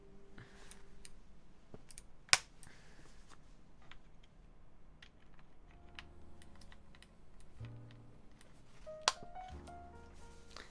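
Keys clacking on a freshly assembled mechanical keyboard, a quiet steady patter of typing with a couple of sharper, louder clicks standing out, fairly close and with no talking.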